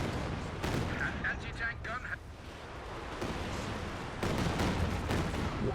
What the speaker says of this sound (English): You also see the creeping barrage here used from Jibber.